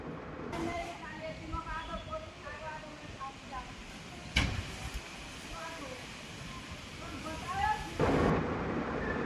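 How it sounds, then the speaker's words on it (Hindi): A strong storm with thunder: a sharp thunder crack stands out against a steady roar of wind and rain, with further rumbling toward the end, while bird calls and faint background voices carry through. "बहुत तेज़ तूफान है भाई,"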